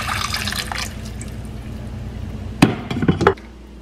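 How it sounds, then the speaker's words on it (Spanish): Water rushes into a cooking pot to cover the ingredients for a chicken aguadito broth: a steady pouring hiss, then a few sharp clanks and splashes near the end, close and fairly loud. "Le voy a llenar de agua hasta que cubra todo."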